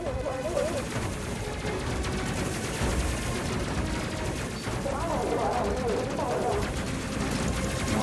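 Rapid autocannon fire in the space combat game Space Crew, a dense, continuous barrage of loud shots layered over the game's music and effects throughout.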